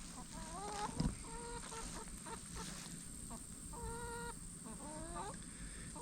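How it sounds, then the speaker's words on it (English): Free-ranging chickens in woodland cluck and murmur in short, rising calls, repeated several times at moderate distance over a soft outdoor background. "we have the chickens back in the woods again"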